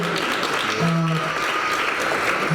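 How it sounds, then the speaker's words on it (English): Audience applause at a Citizens Against Recidivism awards event, honoring a young staff member; a steady bed of clapping with a brief voice or tone over it midway. "I'd like to give him a round of applause"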